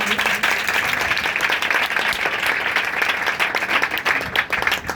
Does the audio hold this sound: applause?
yes